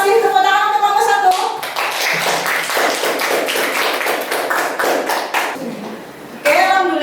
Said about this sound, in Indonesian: Tepuk tangan untuk kelompok 1.